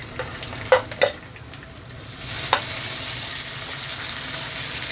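Tomatoes and onion sauté in a pan for a sprout curry. Sharp spatula clinks against the pan come early, over a steady, moderate sizzle that swells slightly later.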